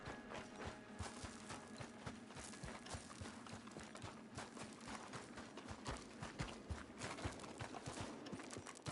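Horse hooves clip-clop in a steady rapid rhythm in Red Dead Redemption 2, close and continuous with faint mechanical clicks mixed in and no talking.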